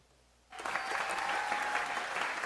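A crowd bursts into cheering and applause after a brief quiet moment, the clapping dense, loud and sustained for a couple of seconds.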